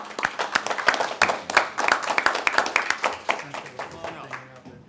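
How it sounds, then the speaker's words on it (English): Audience at a county Board of Commissioners meeting claps in a brisk, steady run of close, sharp hand claps lasting several seconds, with voices talking over it. "A round of applause."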